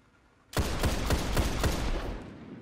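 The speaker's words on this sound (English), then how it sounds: "now if we fire 5 shots" The Last Word gun from a video game fires five quick shots in an even rhythm, loud and close, with a sustained rumbling tail that fades after the last shot.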